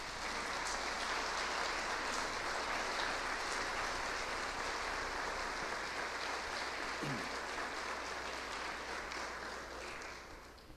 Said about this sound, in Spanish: te enviamos un abrazo y este sincero aplauso de bienvenida